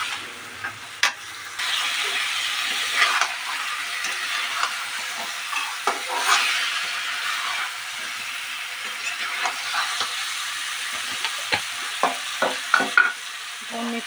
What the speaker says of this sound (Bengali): দিয়ে এটাকে ভালোভাবে কষিয়ে নিতে হবে।